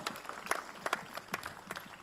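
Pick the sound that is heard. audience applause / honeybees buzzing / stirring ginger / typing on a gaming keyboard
audience applause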